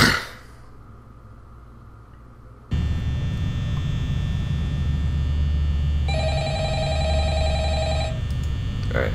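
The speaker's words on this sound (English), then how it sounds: "How do I pick up the phone?" A telephone rings repeatedly inside the Five Nights at Freddy's video game, a steady electronic bell heard over a constant low mains-like hum, with no one talking.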